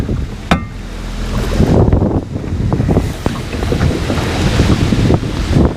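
Strong wind gusts buffet the microphone on a fishing boat out on the water, with rushing, roaring bursts and waves splashing throughout; loud and constant, no talking.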